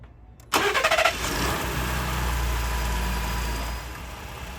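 A Ford F-150 pickup cranks briefly and catches, its engine flaring up loudly before settling into a steady, rumbling idle close by, with no voices.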